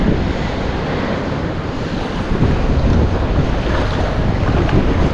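Strong wind roars across a beach, buffeting the microphone in a loud, continuous rush over the surf, with no talking.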